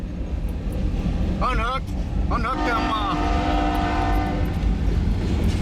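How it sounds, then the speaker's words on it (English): A CN freight train rumbles steadily close by as it slows pulling into Ackley, Iowa, while someone talks over it; a squealing, wavering screech of wheels or brakes rises briefly midway. "here he is pulling into Ackley now to do some work. He should be slowing down."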